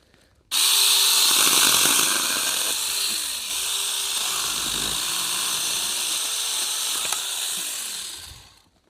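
A small battery-powered SeeSii mini chainsaw starts abruptly and runs at a steady high whine for several seconds, with slight dips in pitch as it cuts grapevines, then stops.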